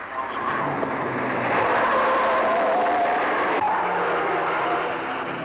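Race cars at over 100 miles an hour down Conrad at the 1966 Gallaher 500 at Bathurst, with a Studebaker in the field, give a dense, loud, sustained engine roar that swells through the middle.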